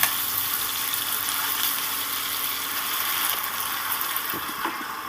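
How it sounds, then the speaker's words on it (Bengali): Chopped onion with a little salt fries in a pan, giving a steady, close, hissing sizzle with a few faint stirring clicks toward the end. "পেঁয়াজটাকে আমি সুন্দর করে নেড়ে চেড়ে একটু ভেজে নেব"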